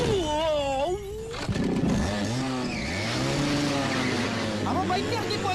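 A jeep swings round in a Malayalam comedy film chase, tires squealing in rising and falling wails over a loud engine roar, with dramatic music and voices mixed in.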